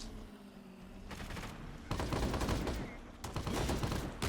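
Gunfire in the online shooter game Crowz, with bursts of rapid automatic fire coming in loud clustered volleys separated by short pauses, over a low background rumble.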